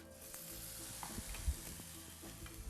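Sauce spooned into a hot frying pan sizzles and crackles, a soft continuous fry with small pops and stirring scrapes, close and quiet.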